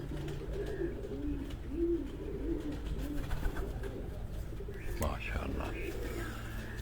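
A pet pigeon coos in a steady, soft rhythmic series of low throaty calls, with a voice talking quietly nearby and a brief noisy clatter near the end.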